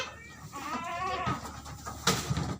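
Goats bleat close by, several wavering nasal cries running together, followed by a sharper burst of noise near the end; no speech is heard.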